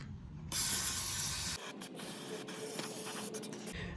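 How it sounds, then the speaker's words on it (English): A can of brake cleaner hisses as it sprays onto a Toyota RAV4 transmission oil pan, one steady burst lasting about a second, followed by softer clicks and rattles of handling. "we're gonna use a can of brake cleaner to clean the oil pan. We're just gonna spray it everywhere."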